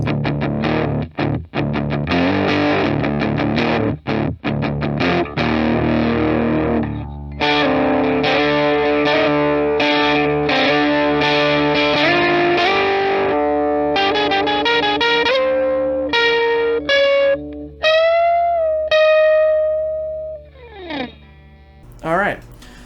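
Guitar loop played through a Behringer Heavy Metal HM300 distortion pedal, a thick, loud saturated tone with chugging chords, sustained notes and sliding leads that end in bending, fading pitches.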